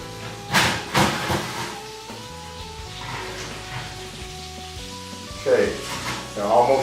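Cheese-stuffed Juicy Lucy burgers sizzle on the heat with a soft, steady hiss that swells into louder bursts near the start and end, partly under a voice and tonal background sounds.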